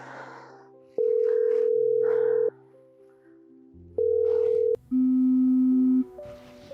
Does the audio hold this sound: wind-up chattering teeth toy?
no